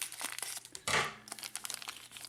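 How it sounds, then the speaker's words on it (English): A plastic bag holding an aluminum fuel tank upgrade for a Losi Aftershock RC car is cut and torn open: close, crisp crinkling with a louder tearing burst midway, then lighter rustles, no talk. "I'm just going to go ahead and cut open the bag."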